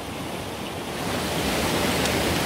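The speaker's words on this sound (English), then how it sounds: "we just set camp in a very typical Swiss place with waterfalls like this one" A waterfall roars at a typical Swiss campsite as a dense, steady wash of rushing water that swells slightly louder after the first second, with no voices.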